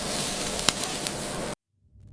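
Close, steady sizzling of bratwurst with charred edges and sizzling fat over flames on a hot grill, with a few small pops, lasting about a second and a half before stopping abruptly.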